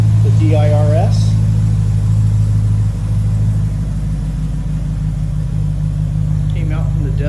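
A Dodge Durango SRT 392 fitted with an MRT exhaust idles with a loud, steady, deep V8 burble, a low droning rumble that holds throughout while someone talks over it briefly at the start and end.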